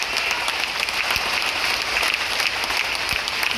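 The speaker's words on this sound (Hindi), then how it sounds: "आपकी ताली की गड़गड़ाहट ये बता देगी।" Audience applause at a business presentation, dense and sustained clapping from a crowd, loud and continuous throughout.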